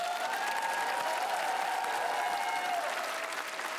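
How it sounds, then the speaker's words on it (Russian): A studio audience at a televised improv comedy show applauds in a dense, steady wash of clapping, with faint voices or music tones faintly audible underneath. "Друзья, аплодисменты."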